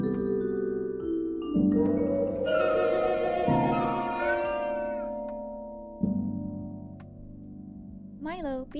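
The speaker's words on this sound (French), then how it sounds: "Qu'est-ce que le chat s'énerve?" Angry cat meowing in the video game Milo and the Christmas Gift, a series of drawn-out, wavering game meows over background music, moderately loud and close.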